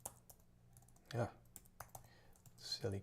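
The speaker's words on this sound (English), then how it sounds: "Silly keyboard." Quiet typing on a computer keyboard, a few scattered clicks and short bursts of keystrokes, fairly close, with faint voice-like sounds in between.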